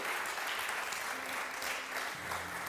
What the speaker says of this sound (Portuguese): Quem vai bater palmas para Jesus?